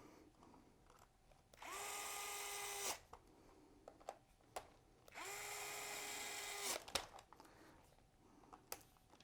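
A cordless power driver whirring in two separate bursts of about a second each, driving screws while a hobby servo is changed, with quiet clicks and handling noises between them at close range.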